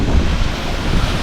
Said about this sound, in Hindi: ये वाटरफॉल देख रहे हैं,